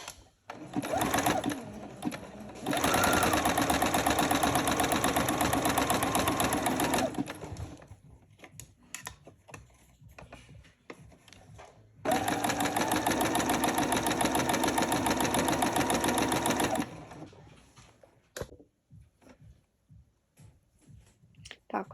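A sewing machine runs a zigzag stitch through fabric while sewing underwear, two long bursts of steady, fast mechanical whirring with quiet handling sounds between and after them.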